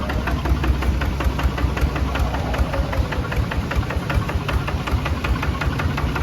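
A Kubota ZT155 Plus diesel engine fitted to a walking-tractor plough frame runs in a steady, rapid knocking chug, loud and close up, without any talking.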